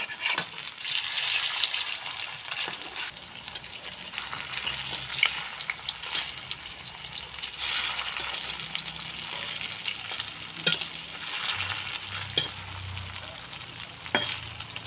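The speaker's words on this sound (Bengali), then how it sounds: "আমি সয়াবিনগুলো এবার ভেজে নিয়েছি, এখন তুলে নেব।" Soybean dumplings (muitha) frying in hot oil in a wok make a steady crackling sizzle, broken now and then by sharp stirring or turning clatters, with a faint voice in the background.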